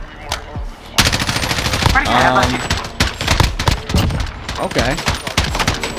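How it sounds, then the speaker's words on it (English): Rapid automatic gunfire bursts rattle through a Search and Destroy video game match, loud and close, with a few sharper single shots, while a player talks briefly over the shooting. "I shot off like too many bullets"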